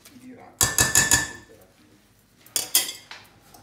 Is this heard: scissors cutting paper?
no